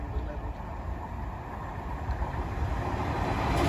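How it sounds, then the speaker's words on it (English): A train approaching a level crossing on a mainline produces a steady broadband rumble that builds gradually in loudness, heard alone. "Train approaching."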